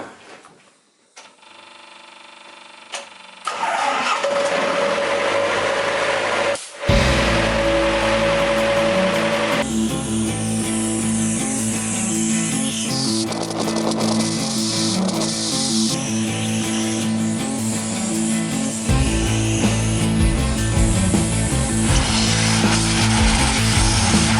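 A sandblaster roars steadily against a vehicle differential sitting on a workbench, a loud continuous hissing blast that starts abruptly after a short quiet lead-in and runs without pause.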